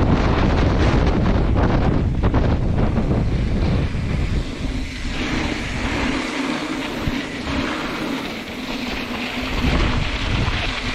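Strong wind buffets a microphone on a sailboat out on the water, a loud, continuous roaring rumble that swells and eases over breaking waves.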